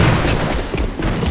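A grenade detonates in the military shooter AVA, a loud, close, rumbling boom that fills the whole moment with dense noise and no clear pauses.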